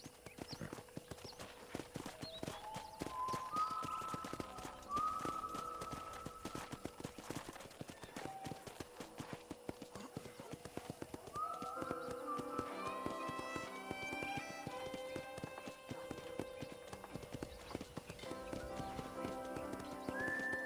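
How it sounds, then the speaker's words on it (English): Rhythmic hoofbeats clip-clop steadily from a ridden horse in Red Dead Redemption, with occasional whinnies and background music tones layered over the gait. "let's see if you can still ride a horse"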